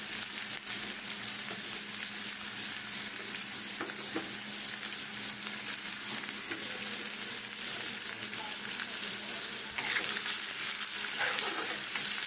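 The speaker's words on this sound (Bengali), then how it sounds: "দেওয়ার পরে এবারে পেঁয়াজটা দিয়ে দিচ্ছি" Chopped onion fries in oil for spinach paratha, giving a steady, close sizzle that runs without a break, with light scraping now and then.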